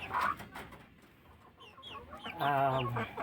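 Dominant breeder chickens, pure-line Dominant Asia stock on a farm, cluck close by in a few short bursts, with a louder drawn-out cluck near the end.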